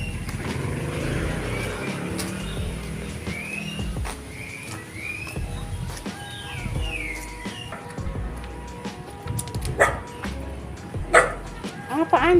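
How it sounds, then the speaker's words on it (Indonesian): A dog barks and yips again and again near a house during a neighbourhood religious gathering, mixed with voices and other background sounds. The barks grow louder and closer toward the end. "Kenapa gonggong-gonggong terus?"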